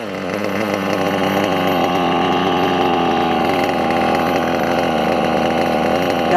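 The small nitro engine of a Hobao Hyper 7 RC buggy, running a little rich, buzzes loudly and close at a high, steady pitch with slight wavering, a continuous raspy drone with no talk.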